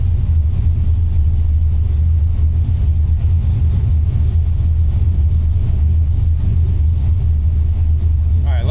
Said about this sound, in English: Let's start rolling it on the dyno. Probably hold it about 2500 RPM or so to get started.